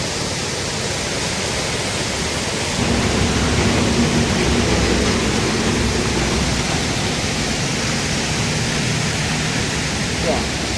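Cold water pours down steadily onto someone bathing beneath it, a loud, unbroken rushing noise that swells after a few seconds, with faint voices mixed into the roar.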